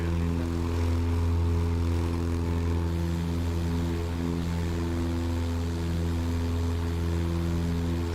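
A propeller aircraft engine in Microsoft Flight Simulator drones steadily and loudly throughout, with a constant low hum and layered harmonic tones and no speech.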